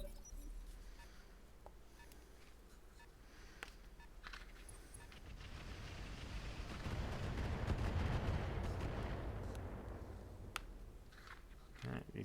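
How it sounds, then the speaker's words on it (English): Mortar fire in the mech combat game Roguetech, a dense rumbling barrage of booms and blasts that swells to a loud peak midway before easing off, with scattered sharper impacts throughout. "That's got to be some kind of mortar or something."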